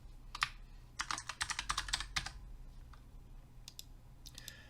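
Keys on a computer keyboard tapped in a quick, irregular burst of close, crisp clicks, thinning out to a few scattered strokes near the end with no voices.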